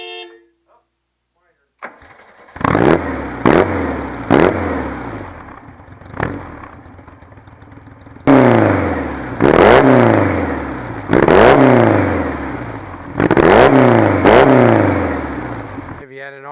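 A 1955 Porsche 550 Spyder at a car show, fitted with a highly modified 2-litre Volkswagen engine with twin Weber carburetors making about 160 horsepower, revs hard up close. Its sharp throttle blips come loud in repeated clusters, each dropping back between bursts.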